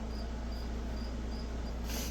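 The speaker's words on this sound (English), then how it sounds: "I got crickets in the walls" Regular high chirps of a cricket inside a house wall, repeating about twice a second over a steady low hum, muffled through the wall.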